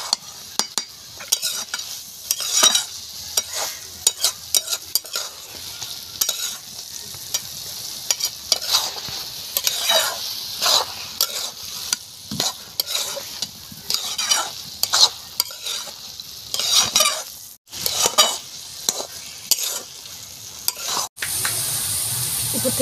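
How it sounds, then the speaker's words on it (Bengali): Carrot halwa stirred in a frying pan over heat, a steady scraping and sizzling with repeated spatula strokes against the pan, close and continuous, with no talking. "তো এভাবে আমি নেড়ে নেড়ে একটু শুকিয়ে নেব।"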